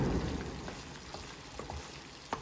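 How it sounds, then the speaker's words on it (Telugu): Mutton fries in a pan on a medium flame, a close, continuous sizzle with a few faint stirring taps and one sharper clink near the end. "సో ఇలాగ మీడియం ఫ్లేమ్ మీద ఇదంతా కూడా దగ్గర పడే వరకు మనం ఇలా వేపుకుంటూనే ఉండాలి"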